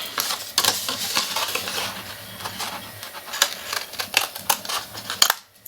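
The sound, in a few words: scissors cutting paper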